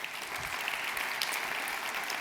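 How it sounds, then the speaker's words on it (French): A short burst of steady crowd applause at a New Year's greetings ceremony, heard from a moderate distance with no speech over it. "On peut l'applaudir encore."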